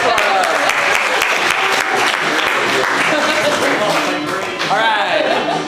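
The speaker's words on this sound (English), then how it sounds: "Get a big round of applause for us." Audience applause at an improv comedy show, sustained loud clapping filling the whole stretch with dense crowd noise and scattered voices mixed in.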